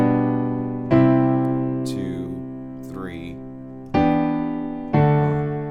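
Full piano chords are struck and left to ring, with a voice counting aloud in the gaps between them.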